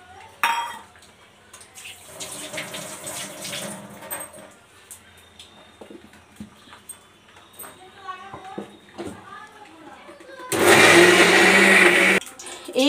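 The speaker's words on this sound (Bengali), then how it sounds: "এইগুলো এবার জল দিয়ে ভালো করে বেটে নিব।" A blender grinds soaked sago pearls and raw potato with water into a batter, a loud dense whir lasting about two seconds after earlier kitchen clatter, with speech around it.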